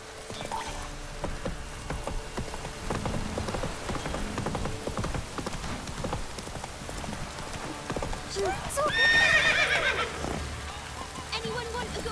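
Roach, a horse in The Witcher 3, trots with steady hoof clip-clops over rain and splashing surfaces, a brief whinny near the end, with a person talking over it.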